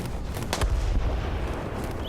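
Tank cannon fire in the tank battle game War Thunder comes as a deep, booming rumble with a heavy low-end roll and a few fainter distant thuds, as a Panzer III takes shots in an ambush.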